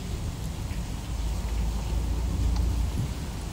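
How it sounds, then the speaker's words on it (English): Heavy rain pours during a storm beneath the Copano Causeway Bridge, a dense, steady hiss and patter with runoff coming off the bridge, continuous and fairly loud throughout with no voices. "Wow, it really is raining."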